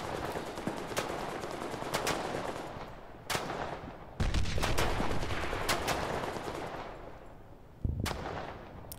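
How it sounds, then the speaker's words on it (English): An MG42 machine gun fires in the video game Fog of War: sharp, loud bursts and single shots crack out repeatedly, some sustained rattling stretches, others isolated reports, all close and without talk. "this just does not feel satisfying to actually fire this MG42."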